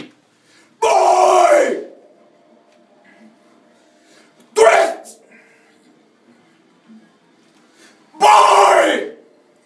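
A person screams three times during a music recording session for a band's album, each loud raw burst about one second long, separated by quiet pauses with faint room noise.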